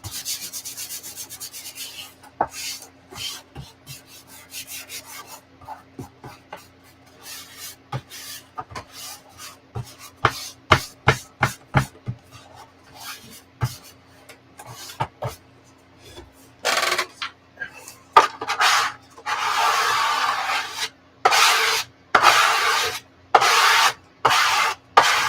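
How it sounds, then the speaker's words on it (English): A squeegee rubs and presses material flat, heard as a run of short scraping strokes, sparse at first and then growing louder and denser into longer broad swipes near the end. "Use a squeegee."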